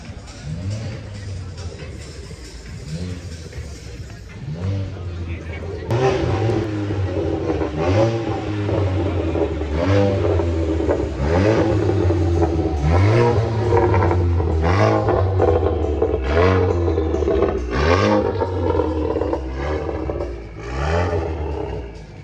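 At a car show, a car drives past with repeated revs and engine surges, loud and close amid crowd babble.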